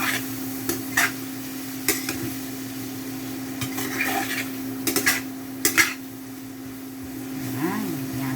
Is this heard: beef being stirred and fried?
yes